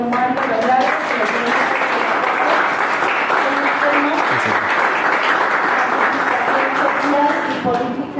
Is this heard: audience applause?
yes